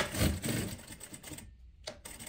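A sewing machine stitches velcro onto fabric with a rapid, close mechanical chatter, pausing briefly and then giving a few more stitches.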